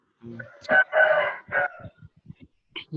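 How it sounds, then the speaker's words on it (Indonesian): A rooster crows nearby, a loud drawn-out call with a couple of short bursts, followed by a few quieter clucks and scratchy noises. "Pas sekali ayam tuh."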